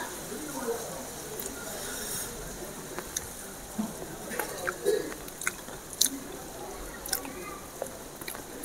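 Close, soft chewing of fried mutton brain masala, moist crunchy bites and mouth sounds over low background hiss.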